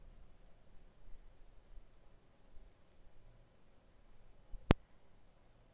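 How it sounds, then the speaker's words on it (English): A computer mouse gives one crisp, sharp click during AutoCAD drafting work. Faint soft clicks and a low, quiet room hiss surround it. "I am going to pan it downwards by double clicking and then moving the mouse"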